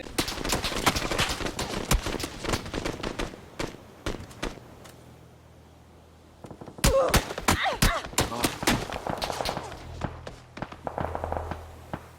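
Sharp gunshots in the battle-royale game PUBG (Battlegrounds), firing in quick bursts at close range, mixed with footsteps, then a short lull before another rapid volley.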